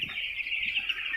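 A chicken with a respiratory infection makes a short, raspy, high-pitched snicking sound against quiet farm background, brief and close.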